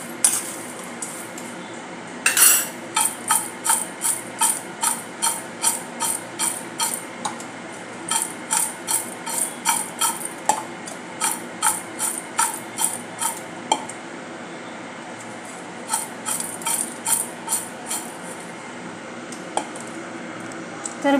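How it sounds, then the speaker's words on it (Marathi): Falahari chivda snack ingredients tossed together for a fasting-day mix with Kashmiri red chilli, a steady run of crisp rustling, clinking strokes repeating in rhythmic bursts with short pauses, close and fairly quiet. "आता हे सर्व आपण मिक्स करून घेऊया."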